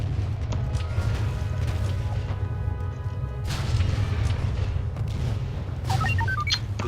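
Thermal detonators explode against a Hellfire droid in Star Wars Battlefront II. Several dull booms and crashing thuds are spread across a constant rumbling battle din, with a few sharp metallic pings near the end.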